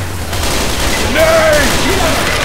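Steady dense gunfire and blasts in Left 4 Dead 2 around a pipe bomb, loud and continuous throughout, with game voices calling out over it.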